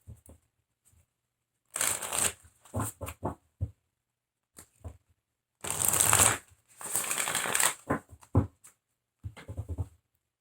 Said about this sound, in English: I am going to draw a couple of cards from the universe